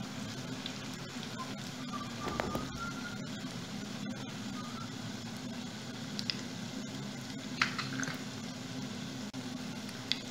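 Kaimati (puff puff) dough balls frying in hot oil, a steady soft sizzle and crackle that runs continuously and faintly, with occasional small pops and no talk.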